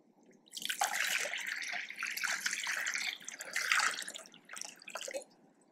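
Water is poured during a church worship service, a steady splashing stream in several close bursts with brief pauses between them.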